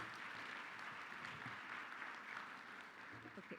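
Applause from a conference audience at a symposium business meeting, thanking the organizing team; a fairly faint, steady wash of clapping that continues evenly throughout.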